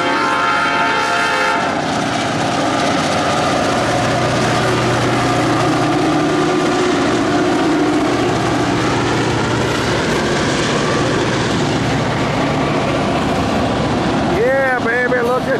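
Norfolk Southern local tanker train with the locomotive running long hood forward, passing close and loud with a sustained rumble and a brief horn blast at the start and a squeal near the end.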